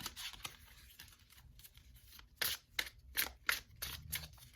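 Tarot cards from a Necronomicon deck being shuffled by hand, soft riffling and papery slaps that sharpen into several louder, crisp bursts toward the end, close and quiet with no talking.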